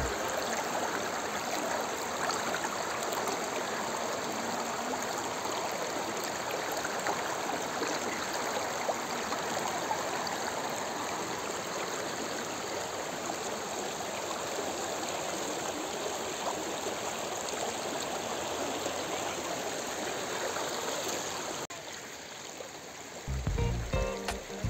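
A clear, crystal-clean river in Sanjay Gandhi National Park, Mumbai, rushes steadily nearby as a continuous broadband wash of flowing water, with a brief shift and a few knocks near the end.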